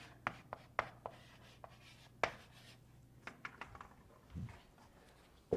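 Pen or marker writing on a board or paper during a calculus worked example: faint, sparse taps and short scratchy strokes in an otherwise quiet room.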